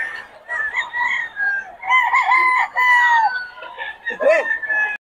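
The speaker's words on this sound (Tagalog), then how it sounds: "Lumalabas na yung mga manok niya." Several roosters at a chicken market crow repeatedly and overlap, loud and close, with clucking in between and someone talking over them.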